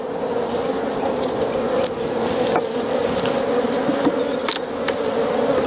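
Honey bees swarm and buzz steadily around an open hive during an inspection, a dense continuous drone close by with a few sharper passes of individual bees.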